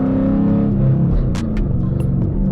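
A Dodge Challenger engine pulls hard in first gear during a clutchless shift, a loud close throbbing rumble with rising harmonics and a few sharp mechanical clicks over the top.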